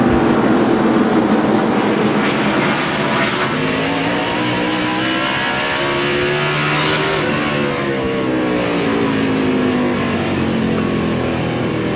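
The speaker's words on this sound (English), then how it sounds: "you listen to Matt Kenseth, how early on the straightaway he rolls out of that throttle" NASCAR stock car engines at the 2002 Virginia 500 at Martinsville, racing nose to tail on the straightaway with one driver rolling off the throttle early; loud continuous engine roar with shifting pitch and a passing sweep midway.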